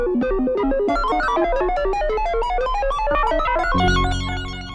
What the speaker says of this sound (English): What you're hearing right now is Tonto, the original new timbral orchestra.